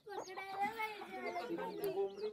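A hen clucking near her 21-day-old chicks at a village farm in Dapoli, soft murmuring clucks and warbling calls running steadily, close and fairly faint, with a voice speaking alongside.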